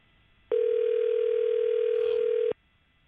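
A single steady electronic ringback tone on a phone call waiting for an answer lasts about two seconds, clear and alone against near silence before and after.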